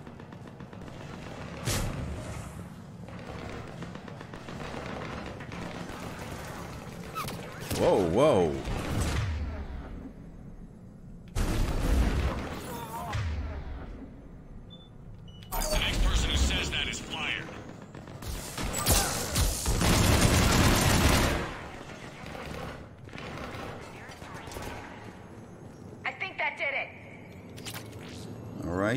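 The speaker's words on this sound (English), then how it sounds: "All right, we've got gunfire." Bursts of gunfire and crashing impacts in the video game Mass Effect 3 come in waves, with someone talking and exclaiming over them.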